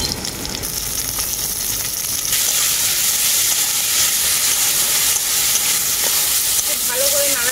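Chopped tomato and coriander frying with onion and chili in a pan, a steady close sizzle and hiss that swells slightly partway through, with faint stirring and no talk.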